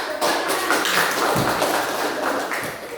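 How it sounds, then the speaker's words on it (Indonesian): Classroom applause, a dense wash of many hands clapping together, loud and sustained for about three seconds. "kita kasih aplaus dulu ya"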